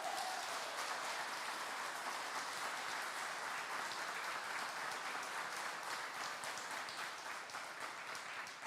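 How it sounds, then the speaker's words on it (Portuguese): A church congregation applauding, steady dense clapping from many people in a hall, moderately distant and continuous throughout. "Se você crê, pode aplaudir para valer."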